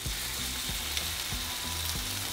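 Bread coated in red sauce for pambazos de papas con chorizo sizzling in hot oil, a steady crackling hiss with soft repeated low thumps, alone without talk.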